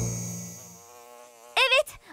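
Bees buzz in an animated children's show with a steady tonal drone that slowly fades, followed by a short burst of a voice near the end.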